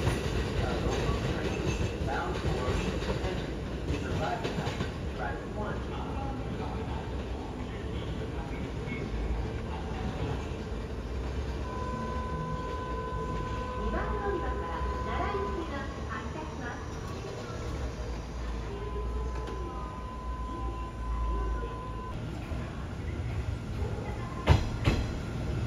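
A Kintetsu Series 21 train rolls through Yamato-Saidaiji station during the evening rush, its steady rumble and wheel clatter continuing throughout, with a rising whine partway through and a sharp clank near the end, while people talk quietly in the background.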